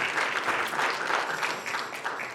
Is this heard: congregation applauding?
yes